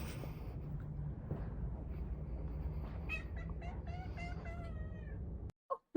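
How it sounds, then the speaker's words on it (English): A cat gives a run of soft, quiet meows, several short calls in a row over a steady low indoor hum, followed by a couple of brief sharp knocks at the end. "Got a quiet meow."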